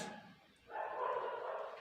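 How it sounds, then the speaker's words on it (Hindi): A dog barking in a street at night around 10 pm, a single faint, distant bark-like call rising briefly and holding for about a second, heard alone in an otherwise quiet setting. "कुत्ता भौंक रहा है गली में"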